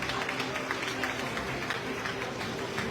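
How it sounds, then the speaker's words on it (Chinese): Audience applause at a North American Junior Chamber convention welcome banquet, a steady wash of clapping and crowd noise that holds evenly across the clip. "大家掌声鼓励一下。"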